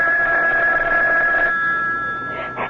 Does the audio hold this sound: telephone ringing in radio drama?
yes